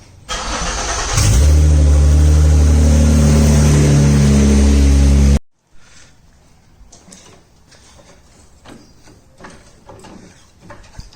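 A car with an open downpipe exhaust revs hard and loud for about five seconds, a harsh, raspy roar that cuts off abruptly, leaving faint background noise.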